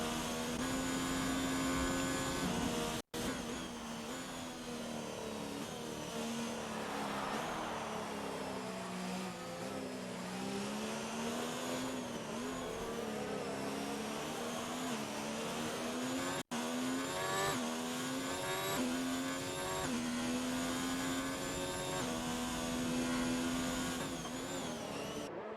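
Race cars in a Chinese GP online racing video game drone past one after another, with engine whines rising and falling continuously at a steady, fairly loud level.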